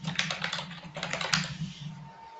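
Quick typing on a computer keyboard gives a brisk run of close, clicky keystrokes for about two seconds before trailing off.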